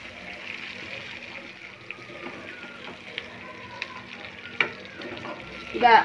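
Masala capsicum frying in oil on a gas stove gives a low, steady sizzle with a few soft stirring knocks and a louder clatter near the end. Faint background voices come and go.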